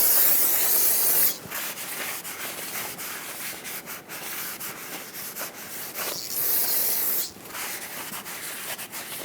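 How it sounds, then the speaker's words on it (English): Brake parts cleaner hisses from a spray can onto a Toyota Tacoma front brake rotor in two loud bursts, with a rag rubbing and wiping the surface in between. "Use brake parts cleaner and a clean rag."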